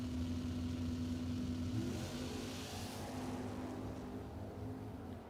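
Drag racing cars launching at an eighth-mile event, including a 1973 Chevrolet Camaro, with a loud, steady engine roar that holds throughout and fades only slightly toward the end.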